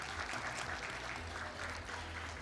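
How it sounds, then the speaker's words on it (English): Audience applauding a moderator and panelists at the close of a trade-fair knowledge session, steady sustained clapping from a large room throughout, no speech over it. "another round of applause to our moderator and panelists"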